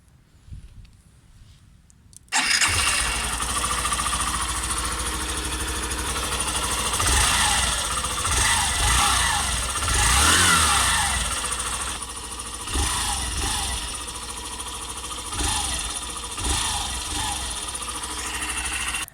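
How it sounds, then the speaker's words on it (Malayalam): After a quiet start, a Hero Glamour BS6 motorcycle engine fires up and keeps running close by, a steady mid-pitched idle with slight rises and dips in revs. "ഇനി നമുക്ക് വണ്ടിയുടെ സൗണ്ട് ഒന്ന് കേട്ടുനോക്കാം."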